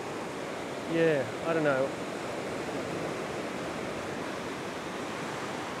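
Ocean surf breaking along a sandy beach at North Narrabeen, a steady broadband wash of waves filling the scene, with a brief spoken remark near the start.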